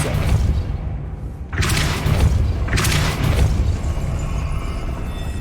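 A Depulso spell is cast in Hogwarts Legacy, giving loud whooshing blasts over a dense rumbling game background, two sharp bursts in quick succession.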